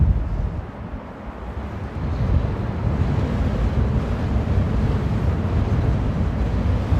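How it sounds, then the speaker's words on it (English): Strong, gusty wind at Amsterdam airport during rain, a steady loud roar buffeting the microphone throughout with a deep rumbling low end and no speech. "The wind is really picking up."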